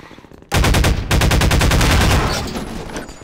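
Rapid automatic gunfire bursts out suddenly in Half-Life 2: Episode One, a loud sustained string of evenly spaced shots that stutters briefly, then continues before easing slightly toward the end.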